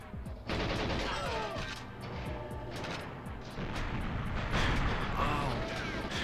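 Dense, rumbling blasts and crackling bursts roll on continuously, a loud explosion in the video game GoldenEye 007 with gunfire-like pops.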